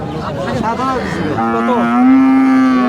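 A cow at a desi dairy cattle market moos loudly and close by, with a long, drawn-out call that swells toward the end over faint background murmur.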